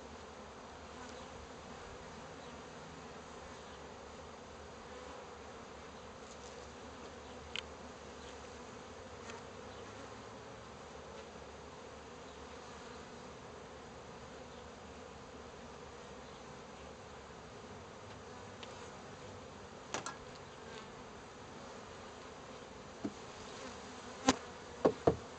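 Honey bees hum in a dense, continuous drone around an open backyard hive, steady and close throughout, with a few light knocks of hive parts near the end.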